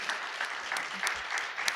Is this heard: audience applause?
yes